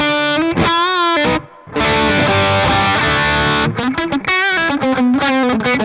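Distorted electric guitar tone played through a Valeton GP5 processor with only a light touch of reverb placed before the delay, heard as loud sustained chords and bent single notes with brief pauses.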